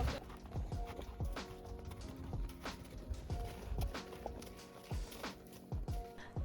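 Horses' hooves clip-clop on hard ground at a horse farm in Iceland, several uneven steps close by, with a soft whinny and quiet background noise.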